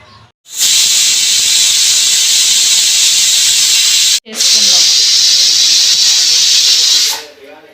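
A loud, sustained hiss of steam escaping under pressure from a pressure cooker whistle, broken by a short pause midway, then continuing before fading out.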